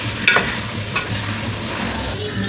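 Fried chicken being stirred into biryani masala in a pan, a clear scrape near the start and a few softer stirs over a low steady sizzle.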